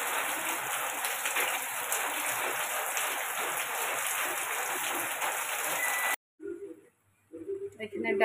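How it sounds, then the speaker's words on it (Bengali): Heavy rain pours down outside a home kitchen as a steady, dense hiss for about six seconds, then cuts off abruptly to near silence broken by faint indoor sounds. "বাইরে কত জোরে বৃষ্টি হচ্ছে দেখুন"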